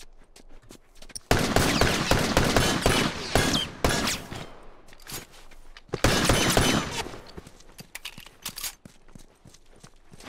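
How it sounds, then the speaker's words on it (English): Shotgun blasts and heavy gunfire in the video game The Last of Us Remastered, two loud dense bursts of rapid shots with quieter scattered pops and footsteps between them. "Watch it, he's got a shotgun."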